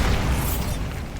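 A Bombarda explosion spell in Hogwarts Legacy goes off as a short, loud, booming blast with heavy low rumble and crackling debris, heard alone.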